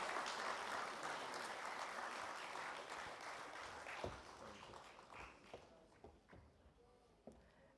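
Audience applause at the CIDC Vishwakarma Awards inaugural ceremony greeting the MD and CEO of Tata Projects Limited as he joins the dais. A dense, steady patter of clapping fills the hall, then thins into scattered, fading claps.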